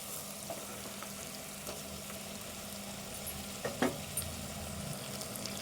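Goat trotter pieces coated in masala, salt, chili and ginger-garlic paste fry in a pan with a steady low sizzle, a few soft stirring clinks rising briefly midway.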